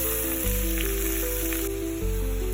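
Sliced onions frying in oil in a pan for Kerala-style crab roast make a loud, continuous sizzle with no voices, carried over a steady low hum.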